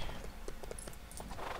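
Horse hooves clip-clop in the LEGO Lord of the Rings video game, with a whinny. The footfalls are steady and close, under a busy game soundscape, and there is no talk.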